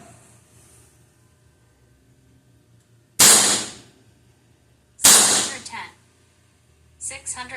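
Two sharp, loud shots from an Evanix Viper-X .25 caliber air pistol ring out about two seconds apart, each with a short decaying crack, with a man calling out a number between shots and a faint click near the end.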